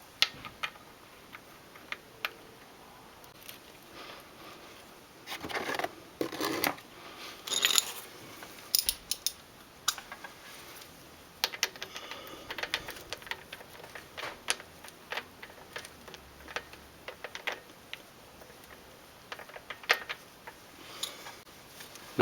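Final drive bolts on a Honda Shadow motorcycle are tightened with a torque wrench, producing a long series of sharp ratcheting clicks and ticks in irregular bursts, close and fairly quiet.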